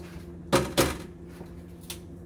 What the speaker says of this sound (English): I'm going to shut them outside by sliding the door down